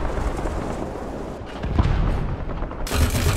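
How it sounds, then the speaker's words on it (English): Dense, rapid bursts of .50 cal machine gun fire in the War Thunder video game, loud and continuous with heavy low rumble and crackling rounds, sounding alone without talk. "Gotta love those 50 cals."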